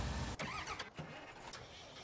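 A farm vehicle in Farming Simulator 19 gives a brief, close engine drone with a couple of revving swells as it drives on.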